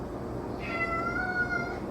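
A single drawn-out cat meow rises and wavers over a low background hum, fairly close and moderately loud.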